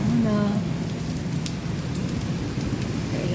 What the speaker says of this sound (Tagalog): Lakas ng ulan kahit kumapagod guys